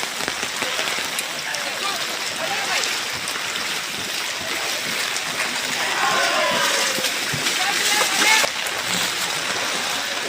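Rainwater splashes and pours through a flooded street in Nalasopara during heavy rain, a dense continuous wash of water close by with louder splashing toward the end.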